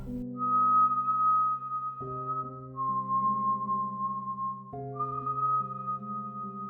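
A haunting three-note melody is whistled clearly over a low sustained musical drone, each long, pure note held and sliding gently into the next, the phrase repeating twice in a slow, eerie rhythm.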